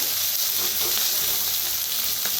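Onion and curry leaves frying in a pan make a steady close sizzle with light stirring scrapes now and then and no voices.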